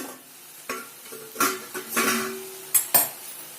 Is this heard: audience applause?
no